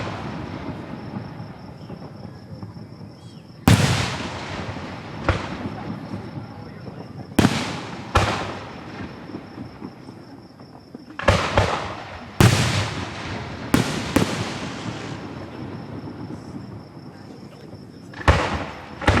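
Fourth of July fireworks at Gettysburg burst in a series of loud, sharp booms with crackling tails, some near and some farther off, while a crowd talks and a child calls out between explosions.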